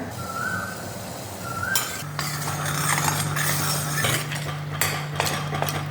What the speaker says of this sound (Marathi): हा असा उसाचा रस सतत हलवत राहायचा एकसारखा